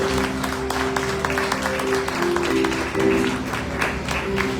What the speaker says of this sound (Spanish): Iglesia de Cristo, denle un aplauso.